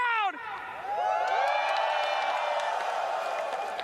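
Arena crowd at the Dota 2 International 2022 finals in Singapore roars and cheers continuously, a dense sustained wash of voices and whoops right after a brief shouted greeting.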